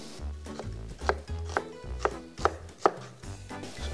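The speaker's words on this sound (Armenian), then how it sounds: "Մինչև տապակը տաքանումը կտրատում ենք սոխը" Onion chopped with a knife on a cutting board, about eight crisp, evenly spaced blade strikes in quick rhythm, close and clear with nothing else heard.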